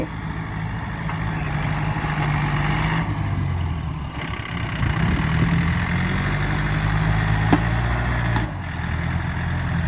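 A tractor engine runs steadily while the machine levels a dirt path. It gives a continuous mid-to-low mechanical drone at close range, with slight shifts in load.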